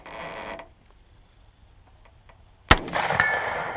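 An unsuppressed rifle fires one loud, abrupt crack after a quiet pause, and a ringing, echoing tail lingers behind it.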